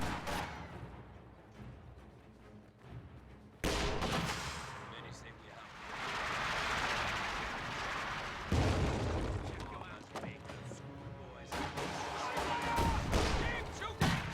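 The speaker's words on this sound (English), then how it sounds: "Keep shooting! Taking effective fire!" Gunfire and explosions in a WWII-style multiplayer battle game, with dense overlapping shots and booms that rise and fall over the whole stretch, several loud bursts standing out, while players talk over the noise.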